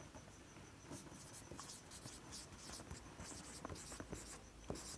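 A pen writes an answer into a notebook during a Class 6 maths lesson, giving faint, scratchy strokes in short irregular bursts against a quiet room, with no talking.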